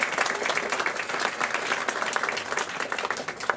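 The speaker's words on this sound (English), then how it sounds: "Another round of applause for" An audience at a magic club show claps for a performer, with rapid, bright handclaps blending into a full, close round of applause that continues unbroken for several seconds.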